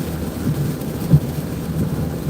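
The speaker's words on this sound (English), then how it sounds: "it's been raining like hell all day long" Heavy rain pours in a constant wash while a low thunder rumble swells briefly near the middle; no one speaks.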